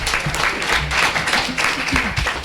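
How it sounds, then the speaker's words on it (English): Audience applause at a regular board meeting: a steady wash of clapping across the room, fairly loud and continuous, with a few voices mixed in underneath. "You can give that a round of applause"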